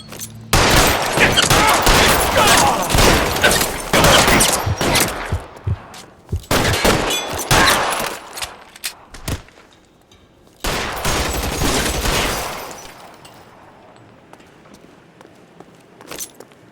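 Gunfire from a shootout in the video game L.A. Noire, with dense bursts of rapid shots and ricochets in three loud volleys separated by brief lulls, fading to quieter scuffling at the end.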